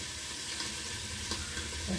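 Vegetables fry in a pan with a steady, even sizzle that holds for the whole stretch, broken by one faint clink midway, with no voices.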